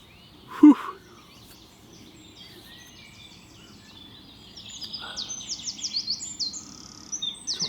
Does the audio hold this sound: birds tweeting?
yes